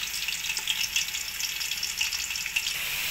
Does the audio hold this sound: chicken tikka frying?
yes